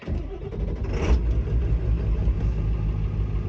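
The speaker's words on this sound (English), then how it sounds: "So this truck does idle a little bit rough." A 700,000-mile truck with its original 7.3 Powerstroke diesel, just back from the shop, idles roughly with a close, steady, deep chugging rumble and a brief rise in the first second, with no voices.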